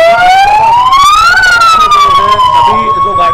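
A loud ambulance siren wails with a rising and falling tone, close by and continuous, with faint background noise beneath.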